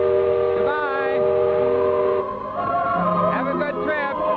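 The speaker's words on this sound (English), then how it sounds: "There goes the whistle." A Disneyland riverboat's steam whistle blows in long, loud harmonic blasts with wavering pitch, heard against crowd voices and talk.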